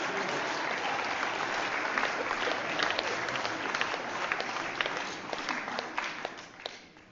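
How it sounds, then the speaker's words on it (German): An audience at a staged satirical 'peace mass' performance applauds on request, with steady, full clapping across the hall that loosens slightly toward the end. "Bitte einen Applaus, meine Damen und Herren."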